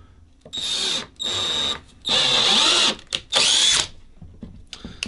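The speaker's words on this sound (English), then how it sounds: "since I'm drilling into oak" An electric drill whines in several bursts into hard oak while a Bigsby tremolo is fitted to a guitar, stopping and restarting, close and loud with brief pauses between runs.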